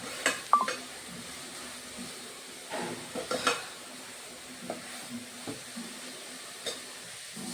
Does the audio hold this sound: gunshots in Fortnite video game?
no